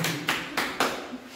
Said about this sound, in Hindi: ये ताली बजा, ताली बजा